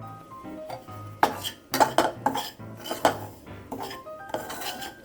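Semolina roasting in ghee in a pan for North Karnataka-style sajjige, stirred with a metal spoon that scrapes and clinks against the pan in repeated irregular strokes, close and fairly quiet.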